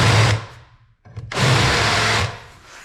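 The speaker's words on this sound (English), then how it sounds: "I'm going to switch over to my countersink bit because I like to chamfer these holes a little bit to clean up the burrs." Countersink drill bit chamfering and deburring holes in a steel bracket for a Chevy 10-bolt rear driveshaft sensor mount, heard as two close, loud bursts of broadband whirring and cutting noise separated by a brief pause.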